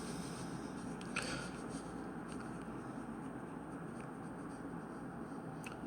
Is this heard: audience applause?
no